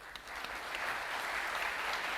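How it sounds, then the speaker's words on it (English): A keynote audience at the Leetspeak 2012 conference applauds the event organizers, a steady wash of many hands clapping that sounds fairly distant and soft and holds level throughout. "Please just give all the organizers a big applaud."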